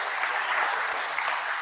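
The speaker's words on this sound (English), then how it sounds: "Let's give them a round of applause." Audience at an evening event giving a round of applause for a team, steady, full clapping from a crowd filling the whole short moment.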